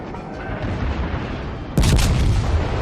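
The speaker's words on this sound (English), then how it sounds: "he is now inside my secondary battery range, and they are hitting him" Warship secondary battery guns fire in a naval combat video game. A low rumble of distant booms gives way to a sharp, loud gun blast that rings out near the end.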